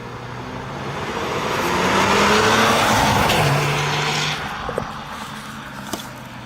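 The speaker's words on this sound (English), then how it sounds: "I'm just gonna do like a little pull in front of the shop here" A Mazda RX-7 FD sports car accelerating hard in front of a shop, engine swelling loudly to a peak then easing off, with a few light clicks as it passes close by.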